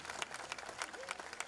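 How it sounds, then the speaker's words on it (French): A crowd applauds at a live comedy event, producing quiet, fairly distant, continuous clapping with a few sharper individual claps poking through. "Applaudissez les femmes."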